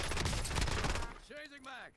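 Heavy, dense gunfire hammers the player in a Call of Duty Warzone match for about a second, then cuts off, leaving a couple of rising voiced tones over quieter game noise.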